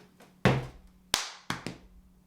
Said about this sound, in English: After that comes 2 chest hits,